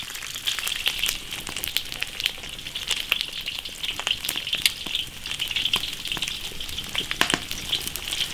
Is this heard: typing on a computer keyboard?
no